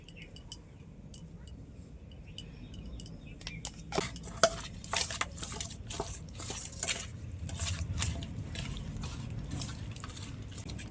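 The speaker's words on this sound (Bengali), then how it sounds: "এখন নুন আর হলুদ মাখিয়ে নেব।" Salt and turmeric are rubbed into katla fish pieces in a bowl, soft squishing and stirring with occasional clinks of the bowl, quiet and close, no voices.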